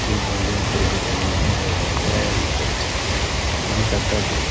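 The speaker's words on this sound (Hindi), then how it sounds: "ओह कितना अच्छा लग रहा है पानी की बूंदें गिर रही" Water drops fall steadily in a dense, constant hiss like rain or spray. The sound is loud and even throughout, with no talking.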